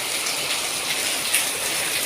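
Heavy monsoon rain pouring outside in Udupi, a dense, continuous hiss of close, steady downpour with no voices.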